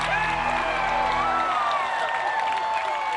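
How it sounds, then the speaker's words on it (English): A crowd at American Ninja Warrior cheering and chanting from the stands, a loud dense roar of voices with whoops and clapping, heard continuously over a brief stretch. "you can hear the crowd chanting on their feet for Gabe Stewart."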